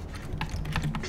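Computer keyboard typing comes in a quick cluster of close, crisp key clicks over a low steady background hum, with no voices.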